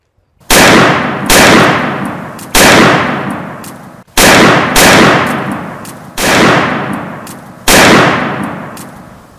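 Loud gunshots at shooting practice ring out one after another, six sharp cracks at a steady pace, each with a decaying echo.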